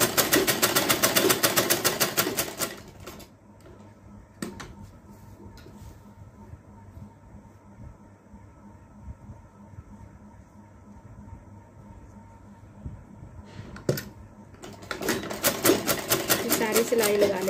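A sewing machine stitching a shirt, rapid rhythmic mechanical clatter in loud bursts at the start and end, with a quieter stretch between while a person speaks.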